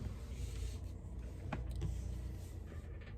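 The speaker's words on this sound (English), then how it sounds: "So you can just go ahead and run a stitch again over the exact same stitch, right?" A sewing machine runs a continuous stitch back over an existing seam on a tote bag strap, a steady mechanical whir filling the short stretch without any talk.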